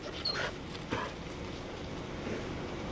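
A dog whimpers softly in a home, a brief thin whine standing out over a steady background hiss, fairly close.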